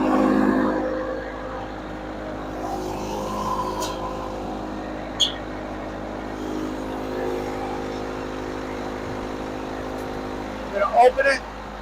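The engine of a Komplet K-TS 30 compact mobile trommel runs at a steady idle with a low, even hum, while someone talks over it and a few sharp clicks sound near the end.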